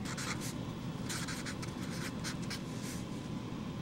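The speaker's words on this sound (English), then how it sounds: "So on my pattern I'm going to write" A pen scratches steadily across a paper sewing pattern for an apron, a soft, close, continuous scribbling with short strokes and faint pauses, heard alone.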